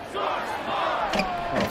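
An arena crowd in the NBA 2K21 basketball video game roars and cheers in a steady, swelling wash of voices, loud and continuous throughout.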